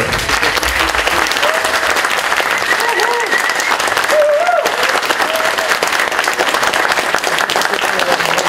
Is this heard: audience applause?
yes